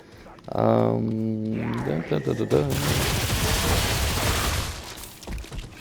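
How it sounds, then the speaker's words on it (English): Gunfire sprays bullets in the Remnant 2 video game, a sustained dense roar of rapid shots that starts after a brief tonal sound and carries on loud for several seconds, with a voice talking over it. "I just kind of like spread the bullets around until he starts bleeding"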